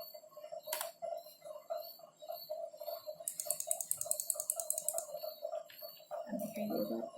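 Rapid keystrokes on a computer keyboard while a formula is entered in MS Word, a soft irregular clatter with one faster burst of clicks partway through, close and fairly quiet with no talking.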